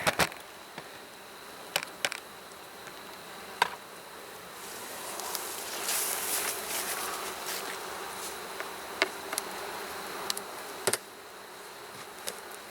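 Honey bees buzzing around an open hive being checked before winter, a continuous close insect drone with individual bees zipping past the microphone and occasional sharp clicks and knocks, no speech.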